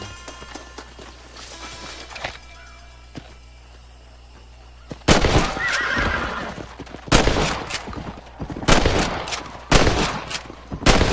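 A horse whinnies in the game Red Dead Redemption amid loud bursts of gunfire and explosions, the sharp blasts repeating over a noisy, game-like soundscape.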